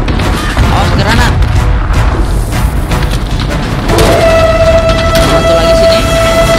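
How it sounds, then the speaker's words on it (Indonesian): Heavy battle noise from Call of Duty: Modern Warfare, with booming blasts and gunfire layered into a loud, dense roar; a sustained electronic ringing tone rises after a blast around the middle and carries on to the end. "Awas granat."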